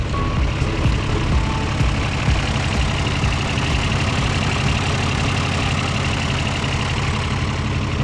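A heavy 1986 John Deere 3040 tractor engine idles steadily and loudly throughout, a constant low rumble with a faint repeating tick on top and no talking.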